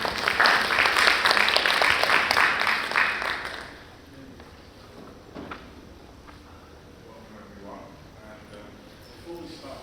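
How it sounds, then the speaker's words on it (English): Audience applause at a mindfulness event, loud and dense for the first few seconds, then quickly fading into a quiet room with a few faint scattered sounds. "Round of applause for BAMBA, please."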